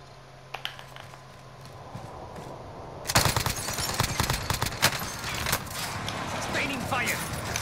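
Gunfire in the Iron Trails video game: quiet scattered shots at first, then a sudden loud burst of rapid, sustained firing that continues with irregular cracks, while people talk.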